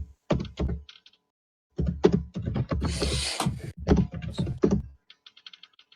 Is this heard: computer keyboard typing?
yes